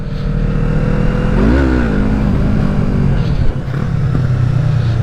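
A Kawasaki Z800 motorcycle engine with stock exhaust idling loudly nearby, then revving briefly and settling back to a rough, throaty idle.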